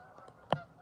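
A single goose honk rings out close by, one short loud call amid quiet outdoor background, from geese migrating through before winter.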